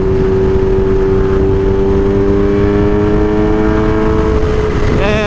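A Porsche car engine gives a loud, steady droning hum with strong tonal harmonics that shifts and rises sharply near the end, as though accelerating close by.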